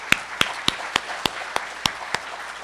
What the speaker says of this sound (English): Let's give another round of applause for our amazing youth.